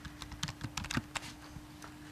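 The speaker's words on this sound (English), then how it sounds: "So let's go ahead and type that in." Keys tapped on a computer keyboard as a quiz answer is entered, a short soft burst of uneven clicks against a faint steady hum.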